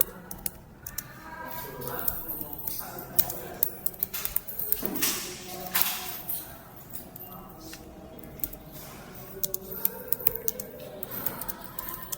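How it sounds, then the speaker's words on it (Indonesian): Soft, quick clicks of computer keyboard keys as an ID is retyped, faint and uneven, with occasional quiet talk in the background. "Jadi aku coba ketik ulang lagi."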